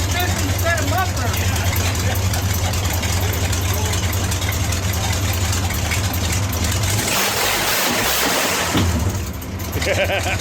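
The engine of a belly tank race car runs without a muffler, a loud, rough, continuous roar close by that breaks up near the end, with people talking over it.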